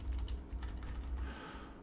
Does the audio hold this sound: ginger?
no